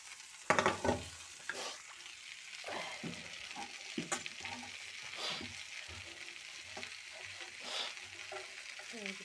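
Bitter gourd pieces and chopped onions fry together in a pan, producing a soft, continuous sizzle, with stirring scrapes and a few louder knocks near the start, close and low in level.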